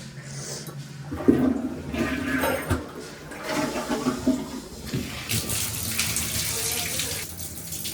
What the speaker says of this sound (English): Oh, the toilet's refilling.